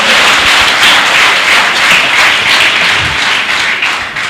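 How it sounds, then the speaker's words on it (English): A studio audience at a talk show gives a big round of applause, a dense, loud wash of many clapping hands sustained evenly throughout. "Big round of applause for that one, guys."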